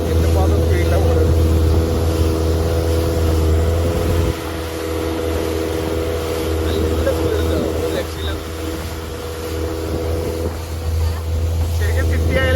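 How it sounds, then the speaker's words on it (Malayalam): A speedboat with a heavy, powerful engine runs at speed near Phuket, a loud constant drone with a low hum, mixed with rushing water and wind buffeting the microphone, and voices talk over it. "ഇത് ഹെവി എൻജിൻ, ഭയങ്കര പവർഫുൾ എൻജിൻ."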